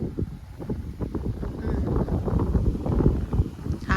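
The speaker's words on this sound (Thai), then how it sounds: "ลม แรง มาก เนี่ย ถ่ายข้าง นอกเลยเนี่ย" Strong wind blows outdoors and buffets the microphone, a loud, steady rumble that rises and falls without a break for the whole stretch.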